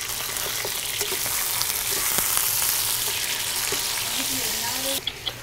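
Chicken pieces searing in a pot as the base for homemade chicken stock, a steady loud sizzle and crackle of frying that runs unbroken for several seconds before a sudden drop near the end.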